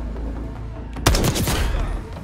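Gunfire in Call of Duty: Black Ops 6, where a loud close shot cracks out, then several quick follow-up reports rattle over a steady low game ambience.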